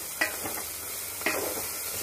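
Gongura leaves cooking down in oil for pickle, a low sizzle broken by two sharp spoon scrapes against the pan, near and without speech.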